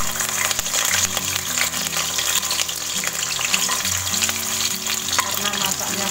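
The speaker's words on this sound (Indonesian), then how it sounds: "Sekarang Bunda mau goreng dulu bumbunya." Spice paste frying in hot oil in a pan on a home stove for a vegetable lodeh, a steady close sizzle and crackle running unbroken throughout with occasional stirring scrapes.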